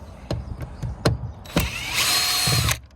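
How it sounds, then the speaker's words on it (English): A cordless screw gun backs screws out of a door panel on a 2008–2015 Toyota Avensis D4D 2.0 during window regulator repair: several short, close buzzing bursts, then a longer sustained whir. "So let's get the old screw gun on the go."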